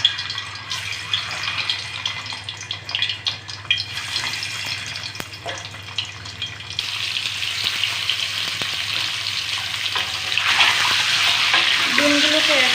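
Eggs coated in turmeric fry in hot white oil in a wok, giving a steady, close crackling sizzle that swells louder toward the end, with occasional stirring clatter and a running-water-like hiss underneath.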